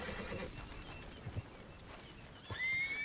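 In the Red Dead Redemption 2 video game, a horse lets out a short whinny near the end, heard over a steady backdrop of in-game ambience and faint hoof clops, with no talk.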